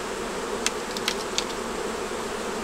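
Honey bees buzz steadily around an open hive with eggs and brood, making a dense, continuous drone with a few brief sharper passes of individual bees close by.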